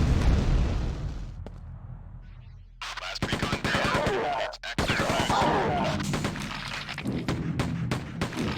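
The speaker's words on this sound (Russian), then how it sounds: "Ну да, одиночными выстрелами вполне себе нормально." Assault rifle gunfire in Quake 2 on Hard difficulty: a string of sharp, loud shots, some in quick succession and some spaced apart, punching through a background of game ambience.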